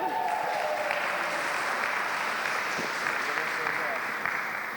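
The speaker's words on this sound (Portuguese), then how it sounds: "A gente troca o abraço por uma salva de palmas." A congregation applauds during a church service, steady crowd clapping filling the room throughout, with a voice speaking over it.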